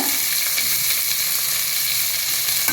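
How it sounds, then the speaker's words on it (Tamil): Onions and curry leaves sautéing in hot oil for vada curry, a steady close sizzle with broad crackling hiss throughout and no talk. "வெங்காயம் கருவேப்பிலை எல்லாத்தையும் போட்டு வதக்கிக்கோங்க"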